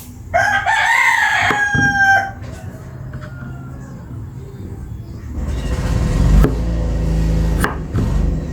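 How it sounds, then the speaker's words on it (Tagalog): A native rooster crows loudly and close by in one long, wavering call, followed by quieter farmyard noise and a low rumble from a passing vehicle. "Native na tandang."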